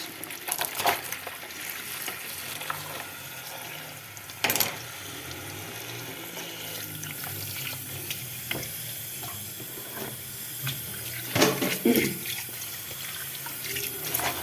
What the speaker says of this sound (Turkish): Şu yeşilliğimi bir yıkayayım arkadaşlar.